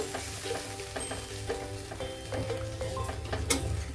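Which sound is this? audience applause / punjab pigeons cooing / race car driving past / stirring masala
stirring masala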